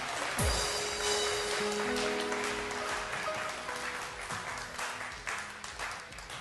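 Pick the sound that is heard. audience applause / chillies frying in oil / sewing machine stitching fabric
audience applause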